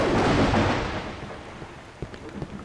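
Thunder rumbles through a rainstorm in the horror game Cry of Fear, a broad loud roll at the start that fades into steady rain noise with a few small knocks, no talking.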